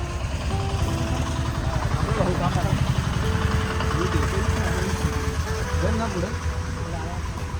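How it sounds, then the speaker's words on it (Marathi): A vehicle engine hums steadily as it drives along carrying a Ganesh idol for the festival, a continuous low rumble with slight vibration heard throughout, while people talk over it. "आपली गाडी चालली आता"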